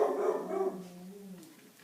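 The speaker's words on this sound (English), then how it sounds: "You guys are going to have to deal with the dogs barking because this is my only set." Dogs barking indoors near a kitchen, one loud close bark followed by a drawn-out whining, fading tone, heard alone without talk.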